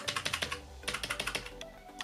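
Rapid bursts of key clicks from a cheap, multicoloured, backlit waterproof keyboard, two quick flurries of close, crisp strokes separated by a short pause, with no talking.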